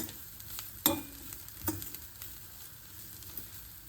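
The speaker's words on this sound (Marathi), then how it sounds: "पण असं छान असं हे आता चांगलं भाजून घे" Fresh green soybean pods roast in a pan with a soft, continuous sizzle, broken by a couple of sharp clinks and scrapes as a utensil stirs them; no voices.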